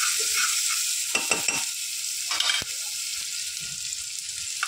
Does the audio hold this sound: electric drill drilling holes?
no